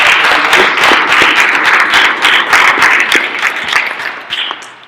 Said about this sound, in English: How about a big round of applause for